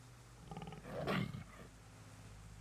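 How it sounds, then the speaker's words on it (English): A lion roars once in the Sam & Max: Season One (2007) video game, a short, fairly faint growling swell lasting about a second over quiet background. "I just get a random lion sound effect?"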